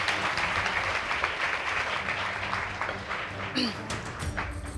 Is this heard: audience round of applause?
yes